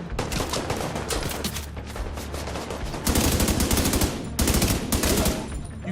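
Sustained automatic gunfire from the shooter game The Division 2: rapid, dense bursts of cracking shots, loud and close, with brief lulls between volleys.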